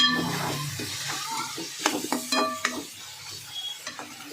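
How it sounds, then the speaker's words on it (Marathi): Ridge gourd curry being stirred in a pan after salt goes in, with soft scraping strokes and faint sizzling, plus a few sharper clinks of the spoon against the vessel near the middle of the clip. "छान मिक्स करून घ्यायचं."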